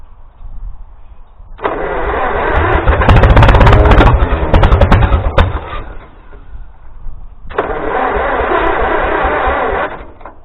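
A 1941 Farmall M tractor engine cranks in two loud bursts, catching with a rough, popping run and a few sharp firing cracks between the starter efforts, close by and without talking.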